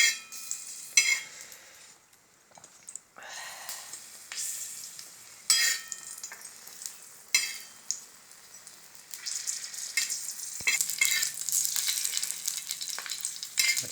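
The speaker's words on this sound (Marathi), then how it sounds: "अशा तळून घ्यायच्या आहेत मिरच्या।" Green chillies spitting and frying in sweet oil on a hot tava, with irregular crackling pops and bursts of sizzle over a hiss and no talking.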